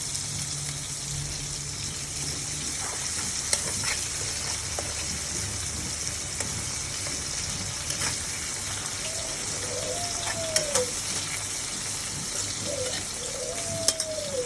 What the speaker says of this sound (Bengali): পেঁয়াজটা আমি ভাজার জন্য, নরম হওয়ার জন্য লবণ দিয়ে দেবো একটু।